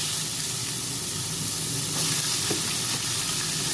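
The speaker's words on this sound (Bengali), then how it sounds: "কড়ার মধ্যে গোটা জিরা দিয়ে দিয়েছি" Whole cumin seeds sizzle in hot oil in a wok, a steady close crackling hiss with a few small pops.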